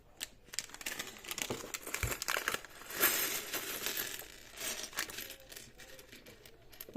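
Plastic bag of Lego parts crinkling and rustling close by, with irregular quiet crackles and small clicking parts shifting inside, no voices.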